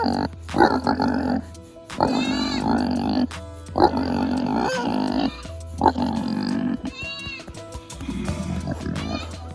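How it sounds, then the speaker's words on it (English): A large hog grunts in repeated loud bursts close by, deep rough snorts and groans coming in several separate bouts with short pauses between them. "You was a sweet pig."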